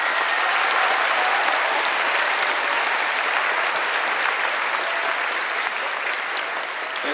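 Sustained applause from a school assembly audience honoring students at an academic awards ceremony, a steady dense wash of clapping that holds evenly loud throughout without a break.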